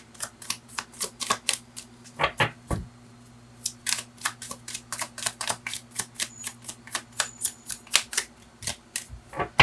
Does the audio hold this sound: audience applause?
no